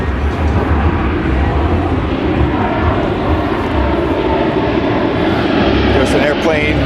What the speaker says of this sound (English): There's an airplane very close.